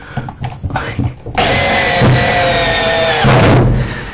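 A screw gun drives screws into a corner-unit sauna seat assembly, whining loudly and steadily for about two seconds, pausing briefly, then running again before winding down, with low background noise around it.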